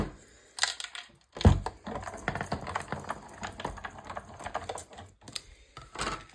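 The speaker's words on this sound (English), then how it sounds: "Let's see if we can get everything on our cut and emboss machine." A cut and emboss machine being cranked by hand, giving a run of sharp clicks and ratchety knocks with one louder thump early on. The sound is fairly close and there is no talking.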